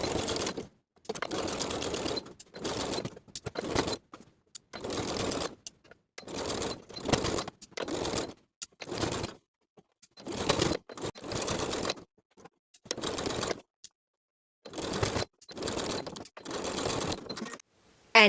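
A sewing machine stitches in the ditch along the waistband seam of a satin blouse, running in many short, close bursts separated by brief pauses, with no talking.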